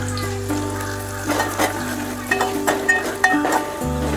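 Mutton masala sizzles as it fries in a pan for katachi amti, a loud, continuous crackling hiss with bursts of spatter over a steady tonal hum or music bed.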